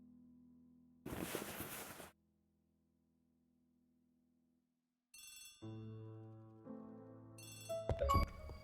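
A telephone rings in the Agatha Christie ABC Murders video game, tonal electronic ringing bursts that start and stop over a quiet background, with a short noisy burst earlier and layered chiming tones toward the end.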